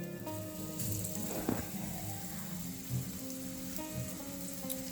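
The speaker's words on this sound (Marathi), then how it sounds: "लो मीडियमवरती आपल्याला हे छान असे उलटपलट करून शालो फ्राय करून घ्यायचे आहेत" Chana dal tikki shallow frying on a tawa over low to medium flame, a soft crackling sizzle with faint background hum and a few light knocks, moderately quiet and continuous.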